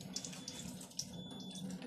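Water runs steadily from a Kangen water machine tap into a sink, a close, even splashing flow with small spattering bursts and no voices.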